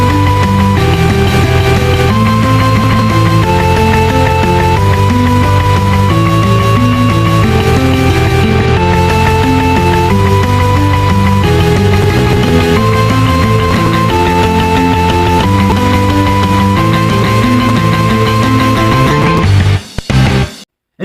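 An anime-style opening chorus plays loud and dense, with driving distorted power chords under a bright lead guitar melody moving through changing chords, then cuts off abruptly at the end.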